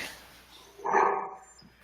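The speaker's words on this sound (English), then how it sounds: "I thought it was a dog bark" A single muffled bark-like sound at middle distance, brief and moderately loud, rising out of a quiet room hum.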